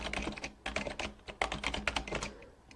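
Quick, uneven clatter of typing on a computer keyboard while entering text in the Vim editor, soft and close, with bursts of keystrokes and short pauses.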